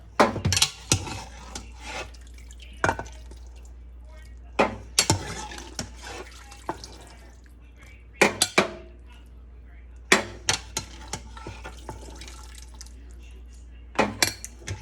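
A slotted spoon lifts a pot roast and potatoes into a baking dish, making a series of sharp clinks and clatters of metal on cookware. Soft liquid drips and splashes sound between the knocks, and there is a steady low hum underneath.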